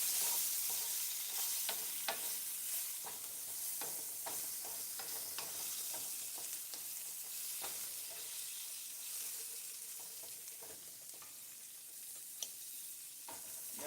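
Shrimp cook in a pan for a tomato pasta, giving a soft, continuous sizzle with scattered light stirring clicks and scrapes throughout, fairly faint and without talk.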